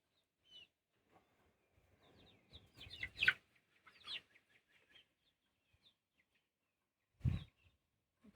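Backyard chickens let out into a newly finished chicken run give soft, scattered clucks, with a rooster call among them, mostly faint with short gaps of quiet.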